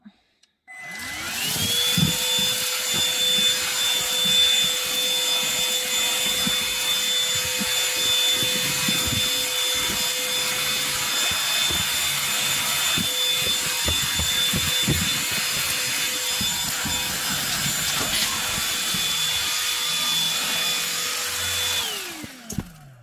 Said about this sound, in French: On va maintenant tester la brosse rotative au niveau de la moquette